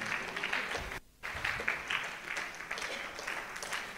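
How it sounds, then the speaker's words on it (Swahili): Audience at a panel discussion on rebalancing boards applauding, a steady, moderately loud patter of many hands that breaks off briefly before resuming and carrying on evenly. "Naombeni mumpigie makofi makubwa kabisa mpaka atakapofika hapa."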